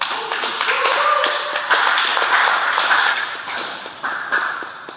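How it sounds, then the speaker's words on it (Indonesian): Crowd applause at an outdoor stand-up comedy show in Sampang, a steady wash of clapping from many hands with sharper individual claps, fairly close and continuous for several seconds. "Tepuk tangan buat Sampang."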